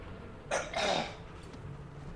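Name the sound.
coughing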